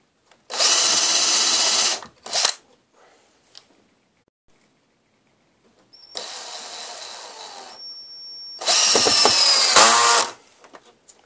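Cordless drill driving screws into wood for a model train layout extension, with several separate loud whirring bursts of a few seconds each, separated by near silence and small handling sounds.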